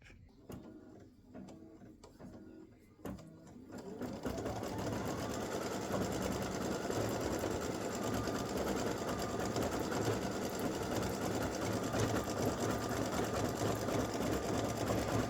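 An embroidery machine stitching leaf shapes starts with a few clicks and taps, then settles into a loud, fast, continuous mechanical whir of needle strokes.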